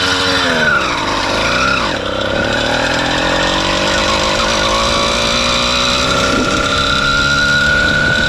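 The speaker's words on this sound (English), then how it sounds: "And how cool the engine sings." A small motor on a bicycle, ridden through the Kazakhstan desert, buzzes continuously with a wavering pitch that dips early then holds steady, loud and close against wind noise.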